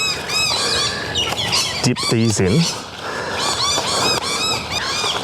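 Birds call repeatedly outdoors in a garden with cacti, bees about, their short chirps steady in the background while a person talks over them.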